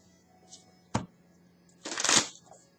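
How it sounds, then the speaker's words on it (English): Tarot cards being shuffled during a reading, heard as a brief riffle near the start and a louder burst of card flutter toward the end, close up, with a little quiet background between. "Let me just shuffle for a little bit"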